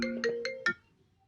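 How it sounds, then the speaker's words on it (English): A phone ringtone chimes four quick bright tones in a rising pattern, close and clear, ending abruptly with a short fade. "My phone just rang."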